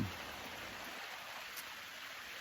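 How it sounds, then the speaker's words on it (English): Steady rain falls on a camping tarp at a trailside camp in Rocky Mountain National Park, making a soft, even patter and hiss that continues unbroken with no voices. "It's kind of nice listening to the sound of the rain."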